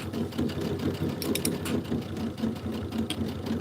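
A sewing machine runs steadily at close range during a live Minki Kim Bloomberry panel sew-along, its continuous mechanical whir and rapid stitching clatter holding an even level throughout with no talking.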